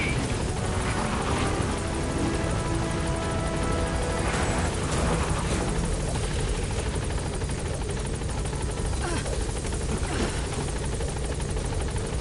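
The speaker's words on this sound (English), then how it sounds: "Get to the chopper now!" Helicopter arriving at a landing zone in the video game Metal Gear Solid V, a loud, steady, close rotor roar with dense broadband noise throughout.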